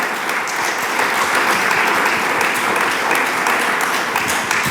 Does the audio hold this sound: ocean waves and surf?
no